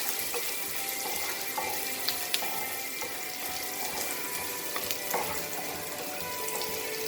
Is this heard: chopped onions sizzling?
yes